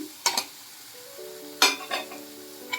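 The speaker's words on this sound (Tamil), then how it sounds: "நான் வெங்காயமும் பச்சை மிளகாவும் இஞ்சி பூண்டு பேஸ்ட்டும் போட்டு வதக்கிட்டு இருக்கேன்" Onion, green chili and ginger garlic paste sauté in a pan with a soft sizzle as a spatula scrapes and stirs in two brief strokes, close and fairly quiet, without speech.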